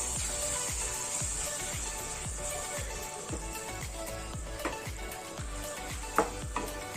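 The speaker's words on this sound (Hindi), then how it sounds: "चलिए मसाला को मिक्सिंग कर लेते हैं।" Spice masala of chilli, turmeric, cumin and coriander powders sizzles loudly in a frying pan while being stirred, a continuous close hiss with steady rhythmic scraping strokes and a few sharper clinks near the end.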